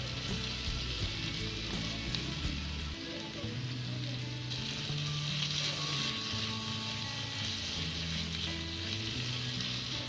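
Onion and garlic paste sautés in a pan for a Bengali chicken curry, giving a steady, close sizzle with faint stirring and a soft hum in the background.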